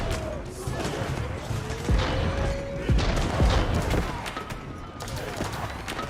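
Gunfire from engineers in the Age of Empires 4 real-time strategy game, with a dense, continuous battle din of popping shots and booms, some whistling projectiles, and a commentator's voice running over the noise.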